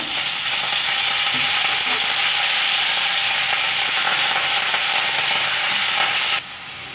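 Sliced onion and curry leaves fry in hot oil in a pan for a spicy pepper lemon chicken. A loud, close, steady sizzle runs throughout with faint stirring scrapes, then drops slightly near the end, with no voices.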